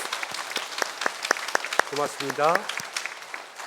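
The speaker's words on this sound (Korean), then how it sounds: "우리 큰 박수로 함께 환영하겠습니다" Church congregation applauding to welcome new members, a steady patter of claps at moderate distance, with someone speaking over it partway through.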